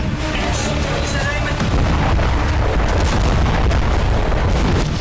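Rocket strikes from Lebanon's Hezbollah exploding in northern Israel at night, a dense, continuous roar of blasts and rumbling booms filling the whole stretch, loud and sustained with no pauses.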